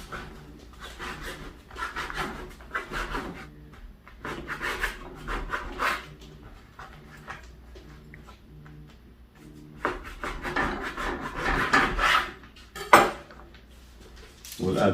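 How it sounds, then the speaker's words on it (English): Knife cutting pita bread for baked pita chips: soft scraping and rubbing strokes on a board with occasional sharper clicks, fairly quiet and intermittent, with speech around it. "So we're gonna cut the bread."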